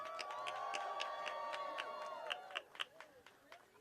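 A crowd at an outdoor union rally for student debt cancellation at the Supreme Court cheers and whoops with scattered clapping, sustained and fairly lively, with voices rising and falling before a louder burst at the end.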